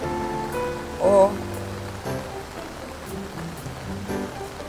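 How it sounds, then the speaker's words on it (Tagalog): A river runs strong and swollen after heavy rain in the mountains, giving a steady, broad rushing wash of water. A brief voice cuts in near the start. "talagang malakas ang daloy kasi malakas talaga ang ulan sa mga bundok"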